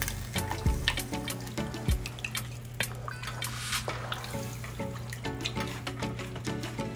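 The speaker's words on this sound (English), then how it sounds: "Now, I'm gonna add my seafood stock. This is 4 cups of seafood stock. And you just wanna stir it up." Seafood stock pours and is stirred into a pot of Louisiana shrimp gumbo, giving close, wet splashes and drips with scattered clinks, fairly soft and without voices.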